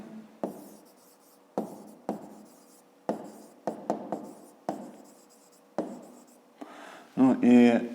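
Pen or chalk writing out math working for a fifth-grade exercise: a series of sharp, close scratchy strokes and taps at an uneven rhythm, followed by a voice starting to speak.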